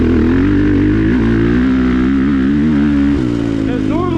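A 2022 KTM 450 SX-F Factory Edition single-cam four-stroke motorcycle engine revving on a race track, a loud, steady high-pitched drone with rising and falling pitch sweeps as the throttle opens, close and continuous.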